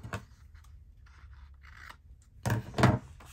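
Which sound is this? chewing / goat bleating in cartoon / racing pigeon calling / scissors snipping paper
scissors snipping paper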